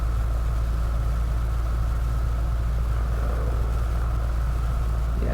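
Steady droning rumble of a Dakota aircraft engine held at idle throttle in a flight simulator after a runway 16 approach, continuous and even with no voices.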